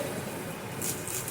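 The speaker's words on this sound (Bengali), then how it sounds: "বাইরে প্রচণ্ড বৃষ্টি শুরু হয়ে গেছে" Heavy rain falling outside a home kitchen, a steady dense hiss with no breaks, moderately loud and uninterrupted by talk.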